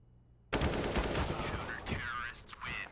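Rapid bursts of automatic gunfire ring out close and loud during a professional Counter-Strike match on Mirage, with a caster's voice faintly underneath.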